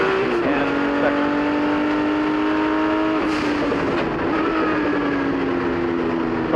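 Race cars, among them a 1979 Porsche 935, roar around a circuit at a historic reunion race, with steady loud engine drones and shifting pitch as cars run down a hill and pass, overlapping continuously with no pauses.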